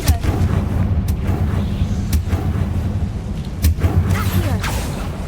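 Confringo fire spell blasts from the video game Hogwarts Legacy, several sharp booming bursts spaced a second or so apart over a rumbling game soundscape, loud and close.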